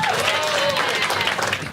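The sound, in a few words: audience applause at comedy show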